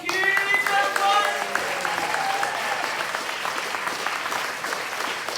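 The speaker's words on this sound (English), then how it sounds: "It's Mike Hogg, everybody, huge applause!" A May Day rally crowd applauds loudly for a speaker, the clapping dense and sustained, with a voice speaking over it at the start.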